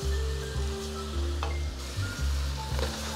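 Fish scraps sizzle steadily in a hot pan for a Thai soup, with periodic scraping and stirring strokes breaking through the continuous frying hiss, close and alone.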